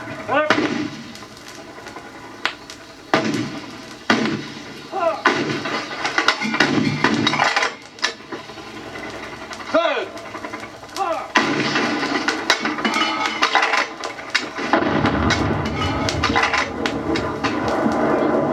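Vietnam War artillery rounds explode in scattered sharp bursts and booms, some heavy and some cracking, over a noisy battlefield bed with voices talking at times.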